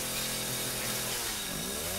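A chainsaw roars loud and steady without pause during a boss fight in the horror video game Resident Evil 7, its motor whine dominating throughout with no talk over it.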